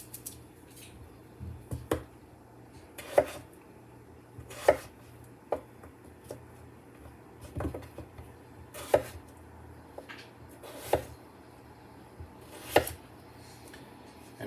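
A knife chops through food on a board for a Jamaican BBQ goat meal, about a dozen sharp, close taps spaced unevenly over a quiet kitchen background.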